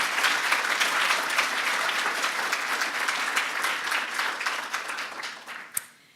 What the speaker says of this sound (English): a round of applause for Brian